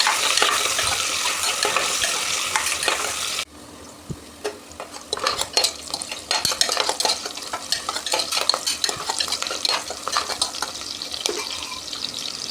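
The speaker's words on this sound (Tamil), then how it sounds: "வெங்காயம் நல்லா வதக்கிக்கோங்க" Onions sauté in a pan for tomato rice: a loud sizzle at first, then after a sudden drop, repeated scraping and clattering stirs with a softer frying hiss underneath, no talking.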